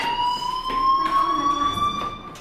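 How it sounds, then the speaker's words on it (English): Fire alarm ringing in the video game Life Is Strange, a steady electronic tone that holds on continuously for a couple of seconds, loud and close with no voices over it. "Hey, do you hear that fire alarm?"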